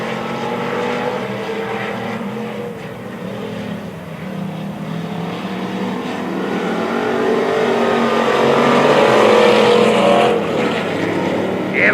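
Pure stock cars race on the Springfield Raceway dirt track, a loud, sustained engine roar that swells as the pack passes close by, with faint announcer talk beneath.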